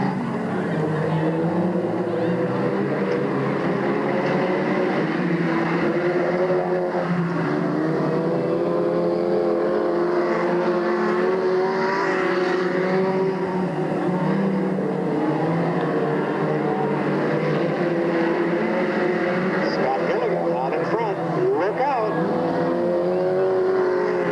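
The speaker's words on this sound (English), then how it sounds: "Heat race underway, 8 laps." Race cars roar around Delta Speedway during an eight-lap heat race in 1997, a continuous loud engine drone with shifting pitches as cars pass, and a voice announcing over it.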